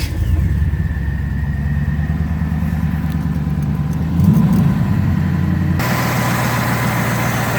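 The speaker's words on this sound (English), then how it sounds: "Engine sounds real nice." A big-block engine in a 1940 Ford sedan idling with a deep, steady rumble, swelling briefly in a short rev before settling back into a throaty idle.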